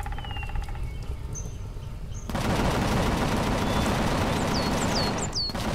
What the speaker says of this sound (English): Why is he still shooting?